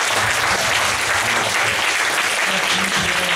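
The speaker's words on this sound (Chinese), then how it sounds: "再次热烈掌声一下" An audience at a talk about civic participation applauds, a loud continuous wash of many clapping hands with a faint murmur of voices underneath.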